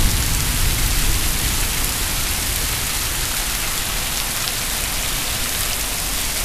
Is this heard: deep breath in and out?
no